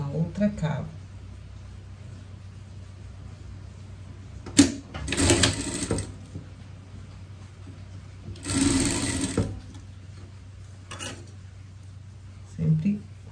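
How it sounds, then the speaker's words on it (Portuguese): A sewing machine stitches the armhole seam of a summer pet outfit in a few short, close bursts of rapid mechanical whirring, with quiet handling sounds and pauses between runs. "Agora, vamos passar a costura na outra cava."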